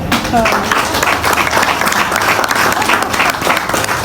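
A crowd claps and cheers for a leader at a business promotion gathering, loud and steady for several seconds, with voices mixed into the clapping.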